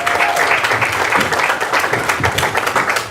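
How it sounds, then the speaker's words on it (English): Dense, steady audience applause fills a political forum hall, loud and continuous throughout with no talk. "Give Patrick a big round of applause"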